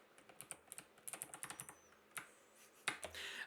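Fast, quiet clicks of keys on a computer keyboard come in uneven bursts with short pauses, then a few heavier keystrokes near the end, close to the microphone, with no speech.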